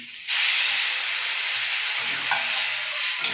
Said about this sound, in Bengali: এবার দিয়ে দেবো প্লেন জল।